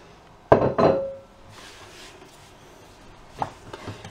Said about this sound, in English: you're going to add these to your saucepan of chocolate sauce, so just tip them in.